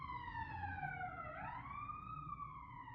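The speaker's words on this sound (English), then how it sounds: "Come on, ambulance." A wailing emergency siren sweeps down then rises again in a long, steady tone, heard from a moderate distance over low background rumble.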